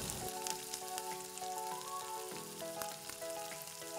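Chicken pieces with ginger and onion sizzle in a pan for Filipino-style chicken curry, a steady close frying crackle with scattered pops and faint background hum.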